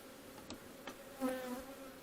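Honey bees buzzing around an open hive with a newly added third storey, a faint close buzz with a few brief passes of individual bees flying near.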